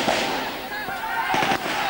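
Sharp gunshot signals crack out at an outdoor police training ground, several quick reports in the distance mixed with crowd noise and talking.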